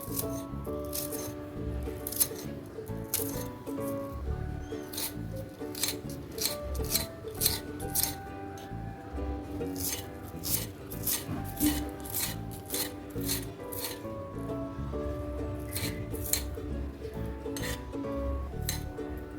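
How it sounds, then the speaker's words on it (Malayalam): Small onions (shallots) cut with a knife into small pieces: quick, regular chopping clicks repeating close by, over a steady tonal hum in the background, with no talking. "ഈ ചെറിയ ഉള്ളിയാണെങ്കിൽ ചെറുതാക്കി നമുക്ക് ഒന്ന് കട്ട് ചെയ്തെടുക്കാം"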